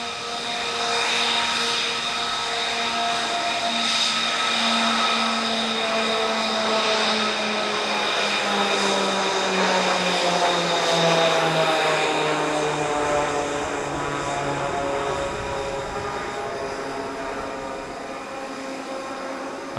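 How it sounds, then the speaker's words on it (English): Piaggio Avanti twin-turboprop aircraft making a run and break at an Italian Air Force centenary airshow, a steady loud propeller drone with shifting tones that slowly falls in pitch as the planes pass, with no talk. "A lovely run and brake by the Avantis."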